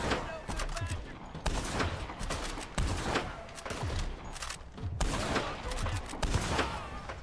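Several rifle shots ring out at intervals in Red Dead Online, a Carcano firing sharp cracks about every one and a half seconds amid gunfire and game noise, moderately loud.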